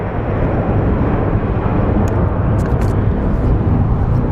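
A Boeing 787 Dreamliner rumbles at Phoenix Sky Harbor, a steady, fairly loud broadband engine drone with no voices over it.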